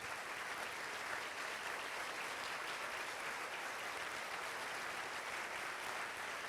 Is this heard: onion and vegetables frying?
no